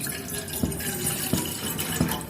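A glass of water is poured into a pan on a gas stove, making a continuous splashing trickle with a few heavier splashes, heard close and without talk.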